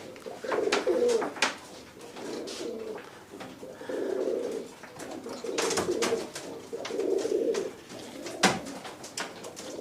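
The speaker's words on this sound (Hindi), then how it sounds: "आरिफ भाई देखें, ये भी चैंपियन ब्लड लाइन का कबूतर है" Champion-bloodline racing pigeons coo in repeated soft, throaty bursts, several birds close by, with short gaps between the rolling calls.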